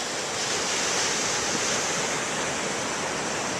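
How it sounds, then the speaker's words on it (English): Atlantic Ocean surf on a beach in The Gambia, West Africa roars as a steady, dense wash of breaking waves with some wind buffeting, no one speaking. "It's the Atlantic Ocean."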